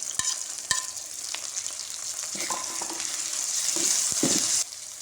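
Garlic, ginger and green chili paste frying with mutton pieces for a yakhni pulao, a steady close sizzle with a few sharp spatula knocks and stirring scrapes, rising slightly toward the end.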